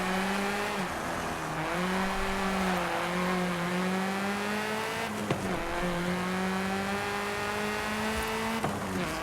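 Race car engine in Forza Horizon 5 revving and accelerating through a series of gear changes, the pitch climbing then dropping at each shift, loud and continuous with no talk over it.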